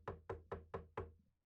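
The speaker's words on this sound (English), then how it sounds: "A sharp knock on my door jerks me out of my sleep." Five sharp knocks on a door in the video game Ethereal Enigma land in an even, quick rhythm, each loud and close with a short decaying tail.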